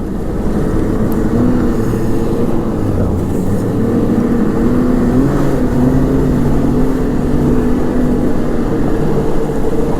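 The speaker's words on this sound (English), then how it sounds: "When you get up to speed, you hear more of the drivetrain, the track, and all that." Steady loud mechanical drone of a Ski-Doo Renegade 900 ACE snowmobile moving at speed, with a low rumbling drivetrain and rattling track noise that hardly changes throughout.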